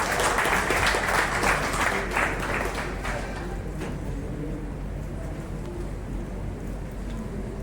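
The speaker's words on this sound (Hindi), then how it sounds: "भाई तालियों में कंजूसी ना करें।" An audience claps at a chemists' association event in Sonipat, a steady wash of applause for about three seconds that thins into a lower, noisy room murmur.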